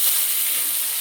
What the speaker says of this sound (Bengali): আমি যে গরম জল তুলে রেখেছি অল্প দিয়ে দেবো।